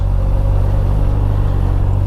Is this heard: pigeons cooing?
no